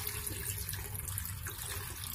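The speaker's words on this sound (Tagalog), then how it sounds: "At syempre, lalagyan ko na siya ng tubig." Water is poured into a cooking pan holding chicken feet for spicy adobo sa gata, a steady, close rushing splash that continues without a break and with no talk.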